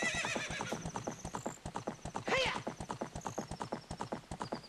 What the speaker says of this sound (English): Here's my horse.